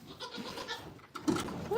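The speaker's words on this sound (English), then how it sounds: "there's like a lot of goats in here." Goats in a crowded pen on a farm bleat close by, several overlapping calls with shuffling and faint voices in the background.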